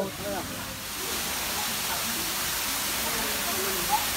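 Steady rushing water from a waterfall at a zoo in Korat, a constant broadband hiss filling the whole clip, with faint voices and ambient activity underneath.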